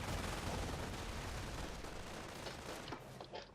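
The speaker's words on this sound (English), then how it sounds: "here comes my second strafing run down here" Strafing-run gunfire in a World War II-style strategy game, sustained dense rapid firing and rumbling impacts, loud at first and tapering slightly, with scattered sharper shots toward the end.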